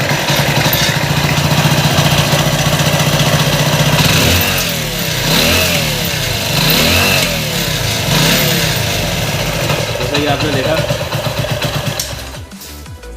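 A Hero Splendor Plus motorcycle engine, leaking oil from the head, runs steadily, then is revved repeatedly with the throttle, rising and falling in pitch before dropping off near the end. Loud and close.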